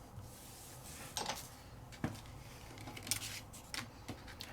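Paper being cut with scissors for a card-making project, a few distinct snips spaced about a second apart, close and fairly quiet in a still room.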